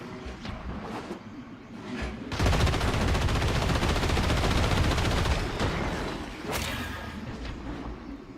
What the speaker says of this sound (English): this gun is really powerful